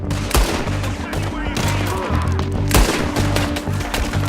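A Red Dead Redemption 2 firefight, with dense rapid gunshots cracking repeatedly over a low rumbling bed and several louder nearby shots punctuating a continuous barrage. Faint voices may be mixed in.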